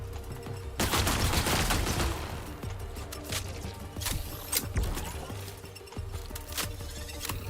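Turret gunfire in the video game Marathon, sustained dense bursts of automatic fire with sharp impacts, loud and continuous across the whole stretch.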